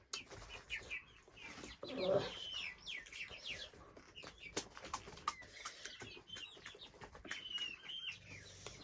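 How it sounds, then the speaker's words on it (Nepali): Chicks and chickens chirp and cluck in a village home, scattered high peeps with some wing flaps and rustling close by, faint background voices now and then. "चल्लाको आवाज आइरहेको होला माइन्ड नगर्नु होला"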